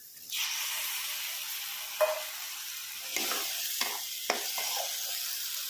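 Eggplant and tomato tipped into frying masala over medium flame, a sharp burst of hissing sizzle that settles into a steady fry, punctuated by a few scraping stirs, close and alone without talk.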